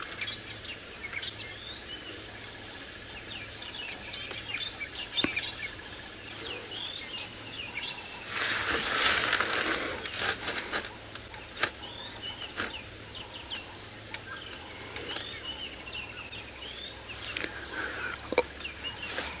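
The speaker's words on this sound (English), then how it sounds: "there's a massive amount of bird calls around us. You can hear a southern black tit." Dense, varied bird calls and chirps, including a southern black tit, ring out during a sunrise safari drive in the African bush, with a brief louder burst midway over a steady outdoor background.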